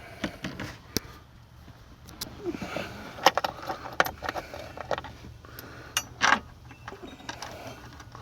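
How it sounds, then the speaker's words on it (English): Metal bolts clink and rattle as they are handled during a hydraulic leak repair on a PT Cruiser convertible, with irregular jangling taps, some sharper knocks, and quiet moments between. "Let me get our bolts."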